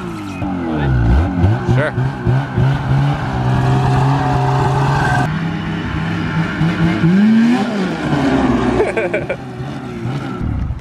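New snowmobile engine revving loudly up close as it rides off, a sustained roaring drone that climbs and wavers in pitch, with people talking briefly over it.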